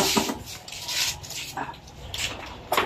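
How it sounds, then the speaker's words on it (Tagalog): Fish scales scraped off with repeated rough rasping strokes, close and fairly loud, in uneven bursts with short pauses, after the fish has been soaked in hot water. "Ito ang magandang paraan para matanggal agad yung kaliskis."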